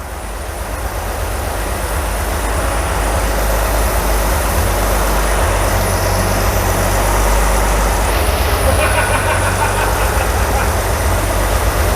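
An REO truck engine runs steadily after carburetor repair, a loud, continuous low rumble that holds even for the full stretch, with no talk over it.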